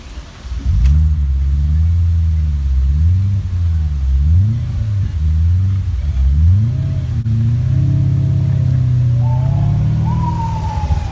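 BMW E34 sedan at a bus stop with its engine running rough, a loud close low rumble with wavering surges, and a warbling siren rising faintly in the background toward the end.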